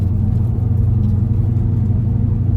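A 1970 El Camino with a Turbo 400 transmission driving in drive with the overdrive off, its engine giving a steady, loud low rumble throughout with no speech.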